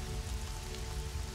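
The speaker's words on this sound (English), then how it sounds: "Cleansing rain, the end of the story." Steady rain falls on a surface, a dense even patter with low rumbling underneath, continuous and moderately quiet with no voices.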